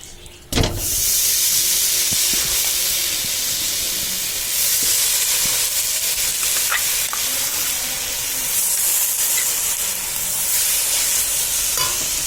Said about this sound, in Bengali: কড়াইটা গরম হয়ে গেছে। আমি এর মধ্যে দিয়ে দেব গুড়